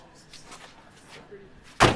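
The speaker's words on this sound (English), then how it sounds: "We'll close the door." Car door closed on a roadside stop, giving a single solid thump near the end after a few seconds of quiet background.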